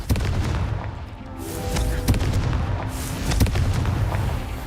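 Confringo fire spell cast in Hogwarts Legacy on PS4, heard as a dense run of booming, crackling blasts with sharp impacts repeating over several seconds, loud and close with game ambience beneath.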